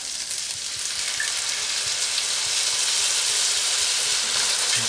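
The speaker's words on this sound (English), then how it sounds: "Now I'm going to take some regular old cheap red wine and give it a couple glugs." Cheap red wine hits a pan of frying meat sauce and sets off a loud, steady sizzle that hisses evenly throughout, close by and alone.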